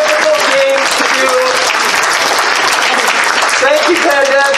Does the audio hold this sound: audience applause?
yes